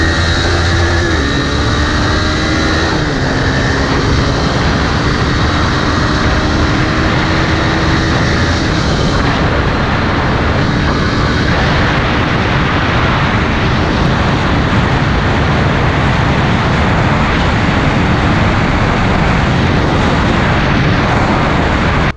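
A Honda RS150R motorcycle engine holds top speed near its limiter, a loud sustained high-revving drone mixed with heavy wind rush, steady and unbroken throughout with no voices.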